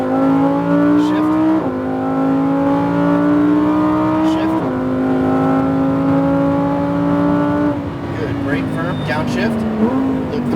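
Lamborghini Huracan engine on a race track, a loud sustained drone stepping up in pitch as it accelerates through gears, with short dips at each shift and an instructor talking over it.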